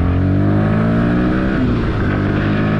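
A 2024 Bajaj Pulsar NS160 motorcycle engine revs loudly and close up on the throttle, its pitch climbing and dropping in a sustained, rough roar.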